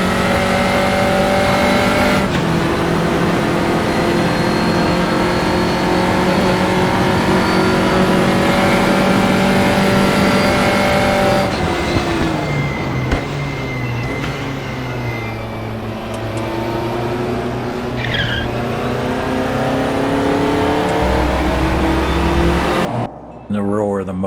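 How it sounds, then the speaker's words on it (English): Race car in RaceRoom roaring at high revs with rising and falling engine pitch, tire squeal and brake squeak, loud and close, with the engine cutting down sharply near the end. "The roar of the motor, the brakes squeaking, the tires squealing."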